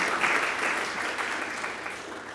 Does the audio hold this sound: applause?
yes